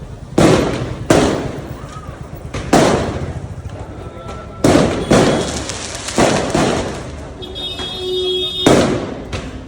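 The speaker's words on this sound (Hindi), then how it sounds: "ये थोड़े फायर क्रैकर्स उड़ रहे थे" Firecrackers go off in a local market in Udaipur, India: sharp loud bangs at irregular intervals, each followed by a rumbling tail, with faint crowd noise in between.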